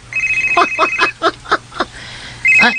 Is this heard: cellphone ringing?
yes